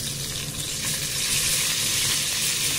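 Andhra-style fish fillets sizzle steadily in shallow oil in a pan after one side has browned, a constant close crackle and hiss with no pauses and no voices.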